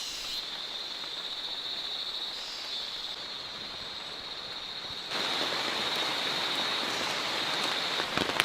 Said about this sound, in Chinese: 又开始下雨了，天天下